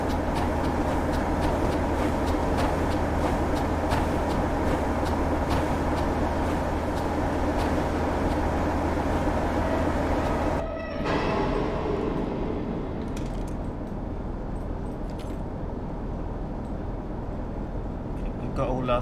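AI-driven BR Standard 4MT tank locomotive passing in Train Simulator 2020, a steady loud rumble of rail running that changes abruptly partway through as it goes by, with a low engine drone continuing beneath.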